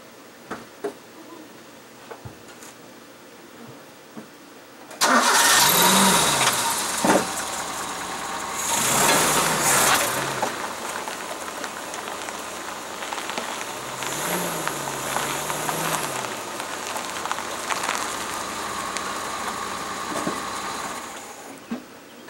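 A Mazda B2200 pickup engine cranks and catches after a quiet ticking start, then runs at a steady, rough idle with revs rising and falling as the truck backs up and pulls forward.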